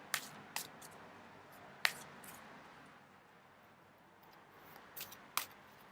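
Tarot cards being shuffled: faint, sparse soft snaps and riffles with a few sharper clicks over a quiet room background.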